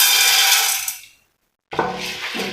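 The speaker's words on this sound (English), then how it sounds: "We are going to pour in our popcorn maize" Popcorn maize kernels poured into hot oil give a dense, bright rattling hiss that fades out, then a short silence before a second crackling burst starts up close.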